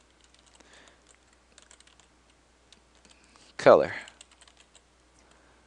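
Light, rapid clicks of typing on a computer keyboard, faint and intermittent throughout, briefly interrupted by a single spoken word.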